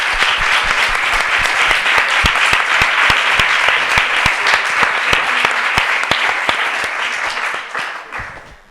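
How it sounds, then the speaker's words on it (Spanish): An audience at a literary festival event breaks into loud, sustained applause, dense clapping holding steady for several seconds before tapering off at the end. "Un aplauso."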